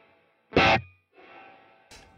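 Reverb with the pre-delay turned all the way up on an audio signal: a loud dry burst comes through alone, a short silence follows, then the longer, softer reverb tail blooms in before another short hit ends the passage.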